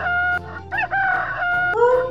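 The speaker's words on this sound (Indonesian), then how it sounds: "Suara ayam jantan berkokok." Rooster crowing, a loud close cock-a-doodle-doo in several rising and falling bursts with no voices.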